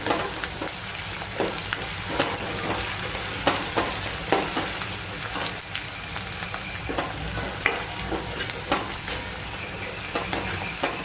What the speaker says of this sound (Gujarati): કાંદાને આપણે બ્રાઉન કલરના થવા દેવાના છે.